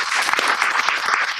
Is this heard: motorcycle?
no